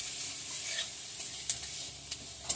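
Chopped onions, chilli, salt, turmeric and spices fry in a pan under a faint continuous sizzle, with a few sharp scrapes of a spoon stirring at intervals and no speech.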